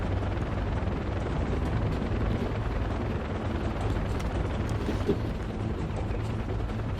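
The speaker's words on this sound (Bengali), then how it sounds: "হেলিকপ্টারের আওয়াজ আমরা পাচ্ছি অলরেডি।" A helicopter in the video game Far Cry 4 gives a steady, dense rotor rumble that stays even and loud throughout, with no voices.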